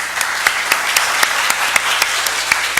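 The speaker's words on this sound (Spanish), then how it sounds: "fuerte aplauso para ellos" An audience at an international arbitration congress claps for the panel speakers, with steady applause and a few sharper claps standing out in a loose rhythm.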